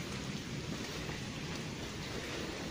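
Heavy rain pours down steadily at a cemetery at night, a dense, continuous roar of water striking the ground with a faint rumble beneath, no voices.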